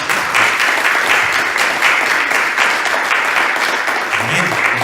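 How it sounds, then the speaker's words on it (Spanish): A church congregation applauds together in sustained, dense clapping that fills the room, loud and close, continuing steadily for several seconds. "¿Quién le da un aplauso a Jesús?"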